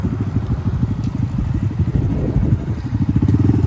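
A Honda Grom motorcycle engine putters in a rapid, steady low rhythm close by, rising slightly as it rides, with no talk over it.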